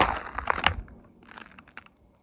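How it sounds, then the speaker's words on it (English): Footsteps crunching in snow at night outdoors, a few soft crunches near the start followed by fainter scattered steps, fairly quiet and close, with no talk. "I heard a crunch in the snow."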